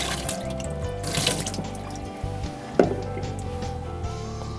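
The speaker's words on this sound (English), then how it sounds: "You pour the water all over your hand up to your wrist." Water poured over hands during Sephardic Passover seder ritual handwashing: a steady, close stream of running and splashing water with one sharp clink partway through, and no talking.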